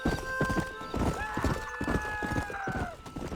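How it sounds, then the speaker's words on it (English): Horse hooves clip-clop steadily at a riding pace in Red Dead Redemption, with a whinny layered over the repeated hoof strikes and game sounds behind them. "Start the stream with a nice horse ride."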